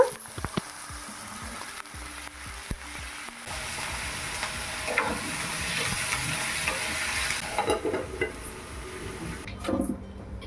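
Brinjal, tomato, onion and green chilli fry in a hot pan with a steady, close sizzle and occasional stirring clatter, growing busier toward the end.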